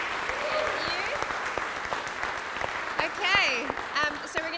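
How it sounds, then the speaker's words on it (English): An audience at a creative week event gives a steady round of applause, moderately loud and sustained, with a few voices and whoops over the clapping. "Can we give him a round of applause?"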